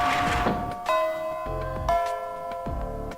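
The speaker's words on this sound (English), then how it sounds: "Miss Fujimura barges into the classroom as the bell sounds" Chiming school bell in the video game Fate/EXTRA, a sequence of clear melodic tones struck one after another over about three seconds, ringing close and loud with a lingering resonance and no talk.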